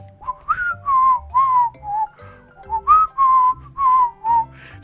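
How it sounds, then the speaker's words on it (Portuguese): A person whistles a short, loud tune of about nine clear notes in quick succession, close and with no talking. "A última vez, o último assovio."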